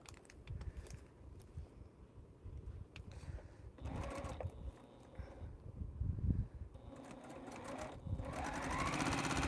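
A sewing machine stitches a commissioned t-shirt quilt in a small space, running in several bursts of rapid mechanical whirring with short pauses between, the last run steady and close.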